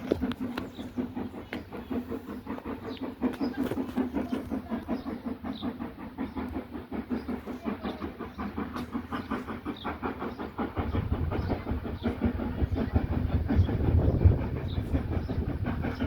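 A heritage railway train on the Keighley and Worth Valley Railway rumbles steadily uphill with rapid chugging and clattering, laboring as it goes, growing slightly louder and heavier toward the end.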